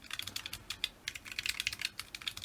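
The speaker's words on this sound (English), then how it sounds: "Sunset twist switches feel really nice. They do sound nice." Typing on a Corne-ish Zen split keyboard fitted with Sunset tactile switches produces rapid, soft, slightly deep clacks in an uneven burst, heard close and quiet with no talking.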